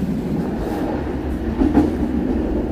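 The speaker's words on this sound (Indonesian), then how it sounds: "Kereta api Serayu melintas langsung stasiun Lebak Jero." The Serayu passenger train runs straight through Lebak Jero station in Indonesia without stopping, giving a steady, loud rolling rumble of wheels on rail that swells slightly midway. No one speaks over it.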